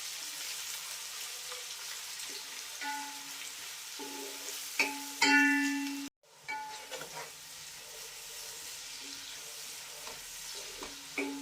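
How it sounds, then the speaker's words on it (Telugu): Sliced onions and green chillies fry in oil, giving a steady close sizzle for a prawn biryani, with occasional stirring clinks and a brief break midway. "ఇప్పుడు ఆనియన్స్ కలర్ మారేంత వరకు వేయించుకోవాలి."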